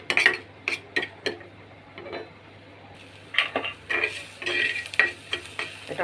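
Green chilies fry in a little oil while being stirred in a pan, giving sharp scraping and clinking strokes in irregular bursts over a faint, steady sizzle, heard close with no talking.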